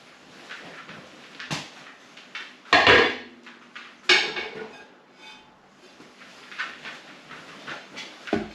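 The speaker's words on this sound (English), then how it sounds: "They're all chopped up. I'll put them in the crock pot." Chopped mushrooms tipped from a board or bowl into a crock pot, giving a few clattering knocks and soft tumbling thuds at close range, with scattered lighter clinks between them and no talking.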